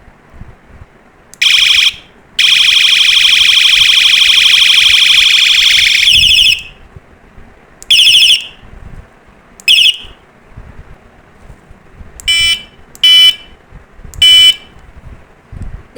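A battery bicycle horn gadget cycles through several electronic tones: a long, loud beeping siren, then short chirps and quick beeps separated by pauses. Each sound is close and plays alone.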